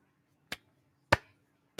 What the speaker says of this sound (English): slow clapping on that one